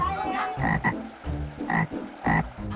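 A toad croaks close by in a series of short, throaty calls, several separate bursts with brief pauses between them and no voices.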